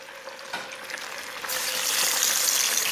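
Tofu pieces going into hot oil in a frying pan over medium heat, a steady sizzle that swells louder partway through and keeps crackling close up, with no talk.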